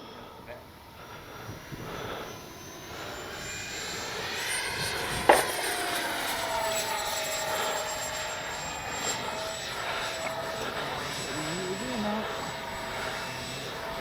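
Freewing 80mm F-22 RC jet with AS3X+ and nose wheel gyro flying overhead, a steady electric ducted-fan whine rising and holding with a distant Doppler sweep, faint voices in the background.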